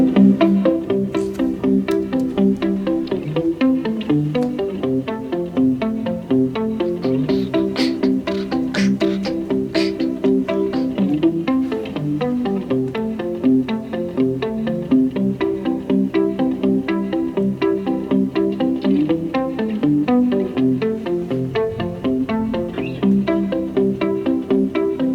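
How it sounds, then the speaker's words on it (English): An electric guitar line runs through VSX effects software, heavily processed with distortion and chorus-like shimmer, playing steady, dense chords and notes for the full stretch at a constant loud level with no voices. "that is a pretty edited guitar line"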